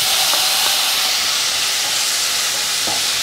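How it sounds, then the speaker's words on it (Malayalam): Tomatoes and spices sizzle loudly in a hot pan, a dense continuous hiss up close, with a few faint clinks of stirring underneath. "ഇനി ഞാൻ ഇതിനകത്തോട്ട് തക്കാളി ചേർത്ത് കൊടുക്കുകയാണ്"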